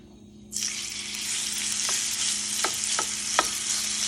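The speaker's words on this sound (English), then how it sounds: "So you wanna sear it, you wanna put just a little bit at a time." Loud, steady sizzling begins abruptly and continues as chicken sears in a hot skillet, with a few soft scraping clicks along the way.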